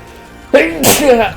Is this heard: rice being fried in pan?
no